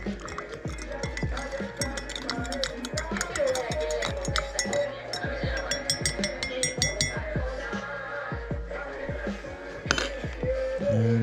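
A spoon stirring a drink in a glass at a cafe in Lares, Peru, giving repeated quick clinks and rattles close by, with chatter and cafe noise in the background.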